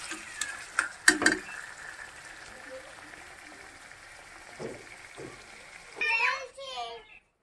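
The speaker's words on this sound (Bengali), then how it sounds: "তো মাংসটা রান্না করতে থাকি" Meat cooks in a pan in a village kitchen, a faint hiss with scattered clinks and knocks, while a voice and a child's chatter come in briefly toward the end.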